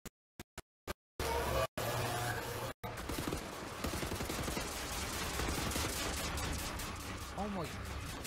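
Gunfire in Wolfenstein: The New Order, beginning with a few sharp isolated shots in silence, then a dense rattle of rapid fire and impacts under a talking voice.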